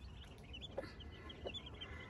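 Twelve newly hatched chicks huddled under their mother hen give faint, high peeps scattered through the clip, with a couple of soft low clucks, all quiet and close.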